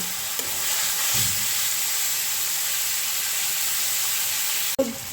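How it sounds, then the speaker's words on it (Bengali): A paste of mustard, poppy seed and green chili hisses in hot oil with a steady, even sizzle, broken by a sharp utensil knock near the end. "এই যে পেস্ট করে নিয়েছি সর্ষে পোস্ত আর কাঁচা লঙ্কা এইটা এই তেলে দিয়ে দেব দিয়ে ভালো করে কষিয়ে নেব"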